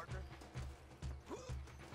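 Horse hooves clip-clop in the video game Red Dead Redemption, a steady rhythmic gait of about four muffled beats with a brief whinny-like sweep, fairly soft and close.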